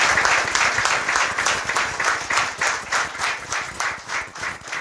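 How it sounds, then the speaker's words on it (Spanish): A church congregation claps together in a steady, rhythmic beat, a full room of hands keeping time for several seconds with no voices on top. "Un aplauso para el Señor."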